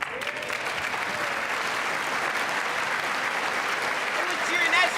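State of the Union audience applauding and cheering in a large chamber, dense sustained clapping with crowd voices, loud and continuous, swelling slightly toward the end.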